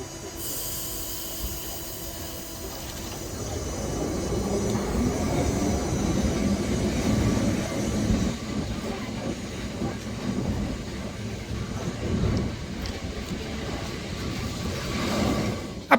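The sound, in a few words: Lisbon tram line 28 running on rails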